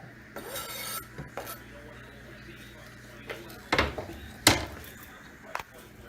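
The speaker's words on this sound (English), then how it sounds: "we're going to combine it into the rendered bacon fat" Scallions, oregano and salami are stirred into rendered bacon fat in a pan, heard as scraping and rubbing strokes with a few sharper knocks against the pan, fairly quiet and close.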